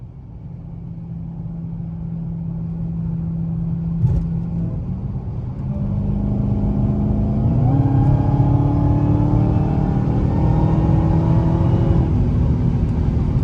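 Dodge Challenger Hellcat pulling hard under acceleration, a deep engine rumble that swells louder with rising pitch and gear-change steps, heard up close from inside the car with no talk.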